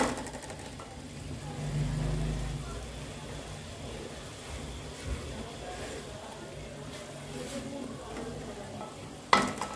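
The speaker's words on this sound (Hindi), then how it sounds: "अब भून लेंगे इसको थोड़ा सा।" Dal with garam masala and coriander is sautéed in a pan, giving a faint, low sizzle and occasional soft stirring under a steady background hum, with a sharper clatter near the end.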